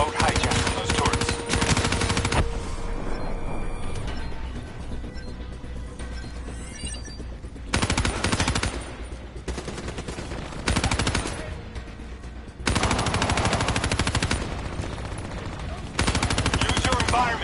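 Machine gun fire rattles in loud, sustained bursts during a Call of Duty Zombies match on the Moon map, with short gaps between volleys and a voice talking over the action.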